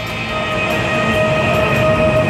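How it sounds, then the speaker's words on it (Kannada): A steady, loud rumble with a sustained electric whine and faint rhythmic clicks, heard from inside the carriage of a high-speed train in Uzbekistan as it gets moving from Samarkand station. "ಟ್ರೈನ್ ಸ್ಟಾರ್ಟ್ ಆಯ್ತು ನೋಡಿ"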